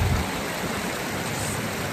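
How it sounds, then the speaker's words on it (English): Cottonwood Creek in the Grand Canyon running steadily beside a campground, a close, continuous broadband rush of flowing water with no voices. "You can see there's a Cottonwood Creek. It's running down here."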